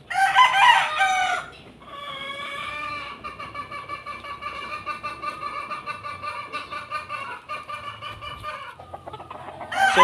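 Yellow-legged Dutch gamefowl rooster crowing, a loud close crow with clucking before it and another crow starting at the end.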